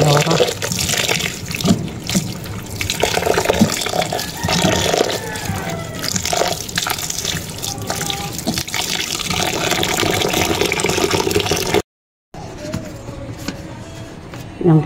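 Tap water runs into a sink as santol fruit is washed, a steady close gush and splash that goes on for many seconds, broken briefly near the end, with a voice speaking over it.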